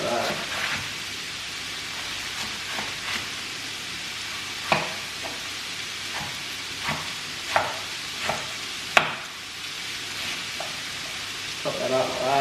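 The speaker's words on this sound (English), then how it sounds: "I'll just go ahead and I'll chop this one up into slivers" A knife slices lettuce into slivers on a cutting board, with a string of sharp, fairly close cutting taps at an irregular pace over a steady hiss of background noise.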